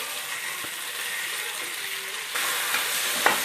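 Fresh mint and coriander leaves sizzle steadily in a hot pan for mutton biryani, a close hiss with a few soft stirring scrapes and a slight rise in intensity partway through.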